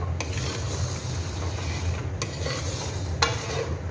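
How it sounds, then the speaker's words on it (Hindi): Almonds frying in ghee inside a kadhai give a steady, close sizzling hiss, with a few sharp clinks of a spoon against the pan as they are stirred. "अब मैं करूँगी बादाम को इसके अंदर फ्राई"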